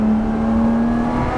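A Lotus Exige 430 Cup sports car engine gives a steady, loud drone with a low hum and rough mechanical texture, sustained without break for a moment.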